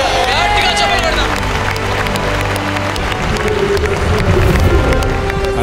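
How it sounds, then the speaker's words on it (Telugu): A church congregation claps loudly and continuously, with cheering voices and crowd babble mixed in throughout a dense, steady burst of applause. "గట్టిగా చప్పట్లు కొడదాం."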